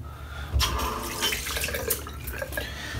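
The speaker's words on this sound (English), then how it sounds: "I just literally rinse it off again to get any sort of residue off it" Running tap water splashes over an alum block being rinsed at a bathroom sink, a steady close gush with small shifts in flow as the block moves under the stream.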